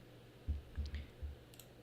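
A few soft keyboard keystroke clicks, four or five separate taps spread unevenly, faint and close against a quiet background hum.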